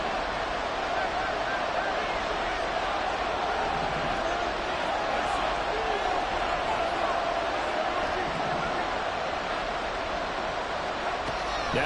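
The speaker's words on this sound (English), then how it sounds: "This crowd doing all they can." A football stadium crowd roars in a steady, dense wash of cheering from far off during a game, with a commentator talking over it throughout.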